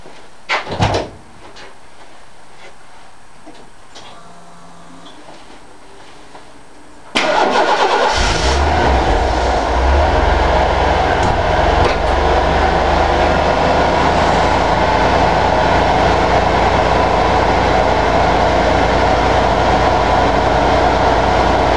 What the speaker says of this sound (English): I guess it's a good day today for a cold start